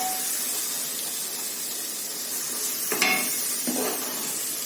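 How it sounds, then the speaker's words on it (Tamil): Chilli masala sizzles steadily in a hot pan while being sautéed for chicken biryani, a constant frying hiss broken by two louder stirring scrapes near the end, with no talking. "மிளகாய் ஸ்மெல் போகிற மாதிரி நம்ம நல்லா வதக்கணும்"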